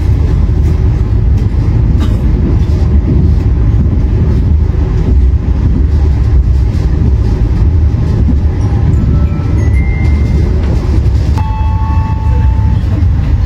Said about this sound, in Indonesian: Di sini kereta api Argo Lawu langsung jalur 3